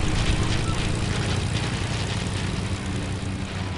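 Airplane engine in a video game, a loud, steady propeller drone that fills the whole clip without pause.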